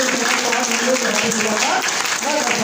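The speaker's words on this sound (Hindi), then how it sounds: "एक जोरदार तालियां के लिए होनी चाहिए।" Loud audience applause at an indoor health talk, a dense and even roar of many hands clapping that holds steady throughout, with a voice carrying faintly underneath.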